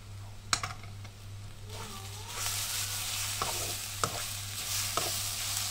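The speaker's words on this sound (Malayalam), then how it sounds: "ഇത് നമുക്ക് തുറന്നൊന്ന് ഇളക്കി" A spoon stirs yam stem and green gram thoran in a pan, several close scraping strokes over a soft steady sizzle with a low hum behind it, and no one speaking.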